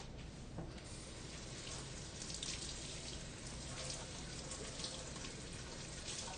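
Produce is rinsed under a running kitchen tap, a steady soft hiss of flowing water with faint splashes and patters, fairly quiet, with no talking.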